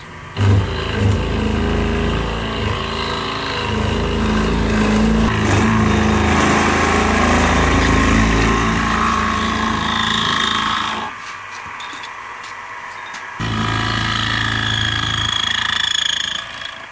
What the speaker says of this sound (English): Now we're doing plunge cutting is what we're doing.